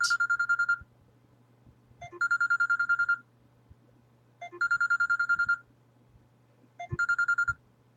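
Mobile phone ringtone sounding in four evenly spaced bursts of bright repeated electronic beeps, each lasting about a second with gaps of quiet room between, moderately loud and nearby.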